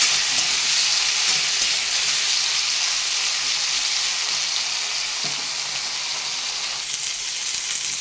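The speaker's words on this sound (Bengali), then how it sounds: "আমি বেগুনগুলো লাল লাল করে ভেজে নিচ্ছি।" Eggplant pieces frying in fish oil in a wok, a steady close sizzle and crackle of hot oil that continues evenly throughout with no talking.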